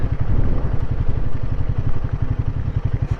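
Motorcycle engine running steady and close at Paparoa Point on Port Underwood Road, with a rapid throbbing pulse and rattly mechanical clatter throughout, no voices.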